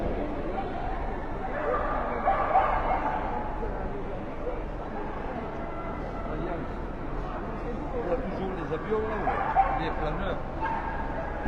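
Dogs at the Monaco dog show, where Alaskan Malamutes, Pharaoh Hounds and Samoyeds are being judged, give a few yips and barks amid a steady crowd murmur while someone speaks over them.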